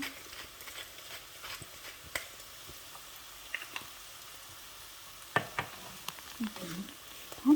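Onions stir-fry in a pan for French onion soup with a soft, low sizzle. Scattered scrapes and taps from stirring come close by, and the level stays faint and steady throughout.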